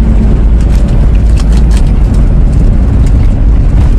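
A Toyota Kijang LGX 2.0 EFI from 2002 cruises in fourth gear at about 2000 RPM, its engine droning loud and steady with constant road noise from inside the cabin.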